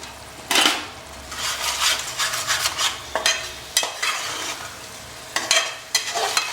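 Masala for whole goat ribs fries over high gas in a pan, a loud spatula scraping and clattering against metal in irregular strokes over a sizzling bed, with no voices.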